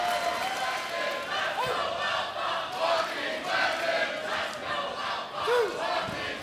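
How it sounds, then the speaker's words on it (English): Crowd at a live pro wrestling show at St. Clair College in Windsor, Ontario, cheering and chanting in a loud, sustained roar with rhythmic swells, while a commentator talks over it. "Mixed cheers now as these two have earned more than the respect of the crowd"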